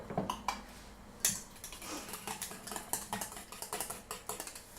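A small whisk beats egg into pasta sauce for spinach and ricotta spaghetti, making quick, irregular metallic clicks and taps against the bowl, close and fairly quiet, with no talking.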